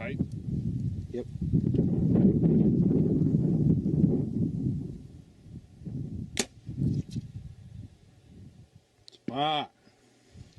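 A tactical crossbow shoots bodkin-tipped arrows at a balloon target outdoors; wind rumbles through the mic, and someone talks throughout, while a few sharp snapping releases and a short ringing burst near the end stand out.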